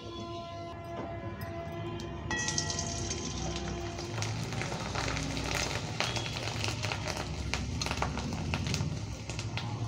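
Sabu (sago) papad frying in hot oil gives a steady, close sizzle and crackle that grows busier after a couple of seconds and then holds as a dense bubbling hiss.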